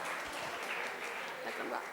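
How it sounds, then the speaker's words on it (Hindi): At an awards ceremony for a Dalit literature academy in Kamthi Kanhan, a crowd gives sustained, fairly distant applause, a steady even wash of clapping with no gaps. "जोरदार तालियां दोस्तों, जोरदार तालियां।"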